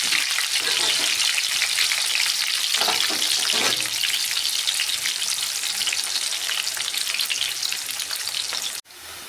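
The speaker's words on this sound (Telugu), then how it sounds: "చూడండి ఎంత చక్కగా ఫ్రై అవుతుంది" Loud, continuous sizzle of onions frying in hot oil for tomato rice, close up and crackling throughout, with no talking.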